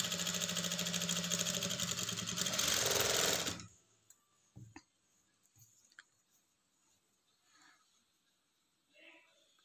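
A sewing machine runs loud and steady while stitching a blouse, then stops abruptly, leaving near silence with a few faint clicks and handling noises.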